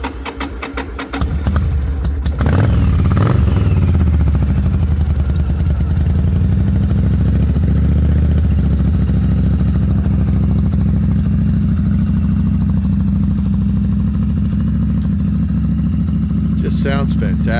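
A choked 2002 Yamaha V-Star 1100 Classic motorcycle cranks and fires, then settles into a loud, steady, close idle that holds to the end.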